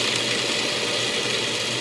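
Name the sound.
food processor chopping nuts, sound getting quieter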